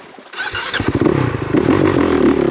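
A Honda CRF450RX dirt bike engine restarting after a stall outdoors on a trail: a short cranking clatter catches into a loud, close idle that quickly builds into a steady rough running roar.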